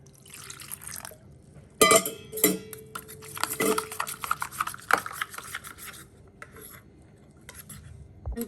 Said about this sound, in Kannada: ನಾನು ನೀರು ಹಾಕಿ ಕಲಸೋಣ